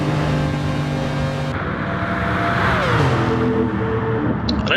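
A Nissan race car in a racing video game revs hard and continuously, its engine note climbing and shifting pitch as it is pushed, loud and close with no talk over it.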